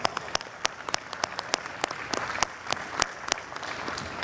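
Audience at a large outdoor cultural festival applauds a former Nigerian president, steady crowd clapping with sharp individual claps standing out, moderately distant and continuous throughout.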